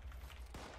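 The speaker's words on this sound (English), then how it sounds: "Ovo minigun" A minigun fires in a video game, a short, dense burst of rapid shots that sounds close and continuous for under a second.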